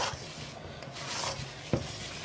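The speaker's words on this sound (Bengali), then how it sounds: "এভাবে আপনাকে নাড়তেই থাকতে হবে।" Honey is worked together with herbal powders, a quiet wet scraping and stirring that repeats in short strokes, with one sharper knock of the utensil partway through.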